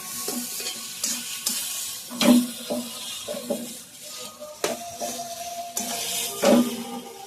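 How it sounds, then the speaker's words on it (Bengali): A spice paste fries with milk in a pan, giving a steady soft sizzle broken by repeated clinks and scrapes of a spoon stirring against the metal, close and clear with no talk. "এবার আমি দুধটার সাথে মশলাটা ভালো করে ভেজে নিচ্ছি"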